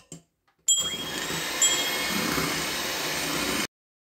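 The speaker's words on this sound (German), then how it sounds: "dann wird die Eiermasse für ca. 5 Minuten schaumig gerührt" Electric hand mixer whipping an egg mixture until foamy for a gluten-free yogurt blueberry cake, a steady continuous whir starting abruptly after a brief knock and running loud and even for about three seconds before cutting off.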